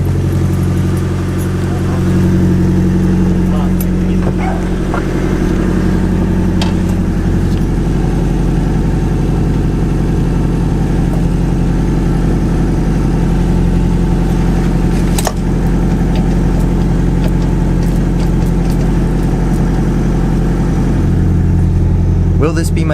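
Nissan S13 with a swapped SR20 engine idling unevenly because of running problems, a loud, close, low rumble that holds steady throughout with slight shifts in pitch, while people talk over it.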